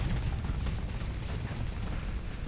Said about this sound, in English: We got just gunfire everywhere.